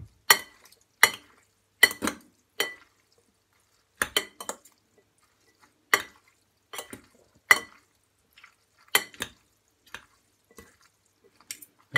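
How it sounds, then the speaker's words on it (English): A fork scrapes and clinks in a bowl while pasta is mixed with corn mayonnaise and tuna, sharp isolated clicks recurring irregularly every second or so against near silence. "I think a fork would be a better choice here to mix it up."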